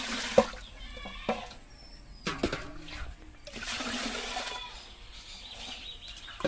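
Water splashes and trickles into a metal cooking pot as it is rinsed after mixing a salted drink for goats, with intermittent pouring bursts and clanks of the vessel, close by and fairly loud.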